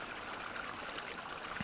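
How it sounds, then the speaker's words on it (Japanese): White, sulfur-rich hot spring water bubbling at the surface in Noboribetsu Jigokudani, a steady continuous wash of gurgling water noise at moderate level with no voices. "こうブクブク表面の硫黄が泡立ってすごいことになってますねこれ"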